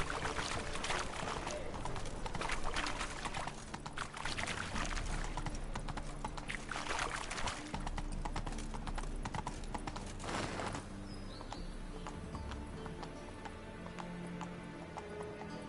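Horse hooves clip-clop steadily at a trot in The Witcher 3, close and continuous over ambient game sound.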